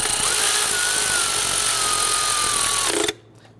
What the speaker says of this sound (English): Now we can tighten down this bracket.